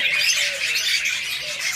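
Budgerigars in a breeding cage squawk and chatter continuously in a loud, shrill, dense flock sound with no pauses.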